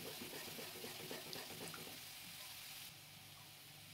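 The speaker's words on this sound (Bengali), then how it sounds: "একটু জল দিয়ে আবারও কষিয়ে নেব মশলাটাকে।" Spice masala cooking in a pan with a splash of water, producing a loud, dense, continuous hissing sizzle that softens a little near the end.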